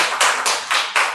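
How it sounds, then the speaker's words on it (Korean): An audience at a Korean community gathering applauds, a few close, rhythmic bursts of hand clapping with no talk over them. "박수 부탁드리겠습니다."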